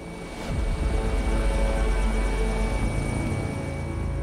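A medical transport helicopter carrying an emergency patient drones steadily with a dense, continuous rotor and engine roar that swells after a moment and stays loud throughout.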